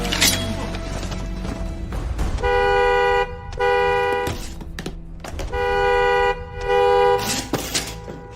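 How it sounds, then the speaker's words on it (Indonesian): Car horn honks in a film scene: several sustained blasts in two clusters, each broken by short gaps, loud and close over faint background noise. "Suara klakson mobil di luar sana"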